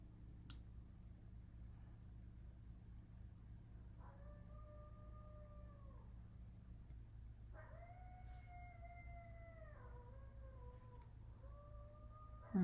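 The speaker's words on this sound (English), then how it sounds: "I can hear coyotes outside" Coyotes howl outdoors near metro parkland, distant and faint: drawn-out, wavering howls rise and fall in several overlapping calls over a low steady indoor hum.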